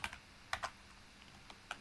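Light keyboard typing in scattered bursts of a few keystrokes, quiet and close, with pauses between them and no voices.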